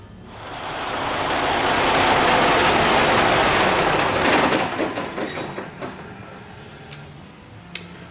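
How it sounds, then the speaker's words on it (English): Engine on a 150E unit running steadily with a loud broadband roar, then stalling from fuel starvation after air enters through the removed fuel filter vent cap; the noise sputters and fades into uneven clatter and quiet ticks. "As you notice, the engine now just shut down due to lack of fuel."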